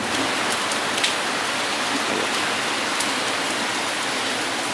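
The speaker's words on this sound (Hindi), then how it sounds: "बारिश हो रही है बुजुर्गस्त." Steady rain falls in Islamabad, an even, close hiss of drops on surfaces with a few brighter patters, continuous and alone without any voices.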